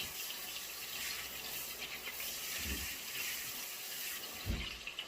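Water runs steadily from a kitchen tap during hand washing while cooking, a continuous close hiss with a couple of brief splashy bursts and no speech.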